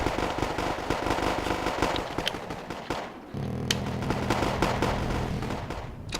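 Rapid anti-aircraft cannon fire from a Tunguska air-defence vehicle in the Wargame Airland Battle video game, a dense, loud stream of cracking bursts with rumbling battle noise underneath that dips briefly and then resumes.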